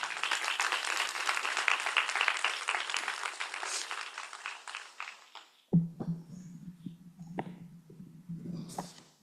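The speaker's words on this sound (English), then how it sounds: "let's give her another round of applause" A crowd at a women's investment summit claps loudly and steadily for several seconds. The applause then drops away, leaving faint scattered claps and quiet room sounds.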